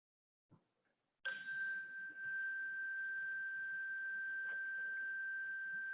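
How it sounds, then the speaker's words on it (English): A meditation chime in a quiet morning mindfulness session rings once and holds a long, steady, pure tone that lingers softly after a faint knock, with no talking. "you'll hear the chimes every 30 seconds"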